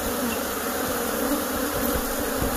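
Bees buzz steadily around a small hive as it is taken out of a shed, a dense swarm droning close by without a break and with no voices.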